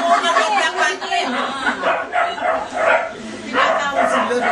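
A dog barks and yips several times in quick bursts, mixed in with overlapping chatter and laughter from people nearby.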